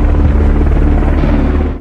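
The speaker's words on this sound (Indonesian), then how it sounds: "Jam 5 pagi, helikopter yang membawa uang Ben tiba di Harvest Key." A helicopter arrives in a film scene at dawn, its rotor and engine making a loud, steady, close throbbing drone that stays strong throughout.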